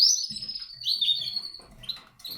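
A male Belgian Bult canary chirps and trills close by in short, high, bright bursts, with soft rustling underneath.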